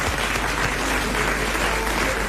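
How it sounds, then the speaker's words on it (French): A studio audience at a 1990 French television talk show applauds a guest, a steady, dense wash of clapping that fills the whole moment with no voices over it. "Vous allez applaudir Monsieur Blavier de Braine-l'Alleud."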